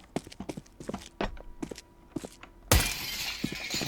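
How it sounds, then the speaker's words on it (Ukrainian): Glass breaking on the Lagos map in Counter-Strike 2: a single sharp shatter cuts in after a run of quiet footsteps and small game clicks, then the footsteps carry on softly. "Ось стекло розбивається."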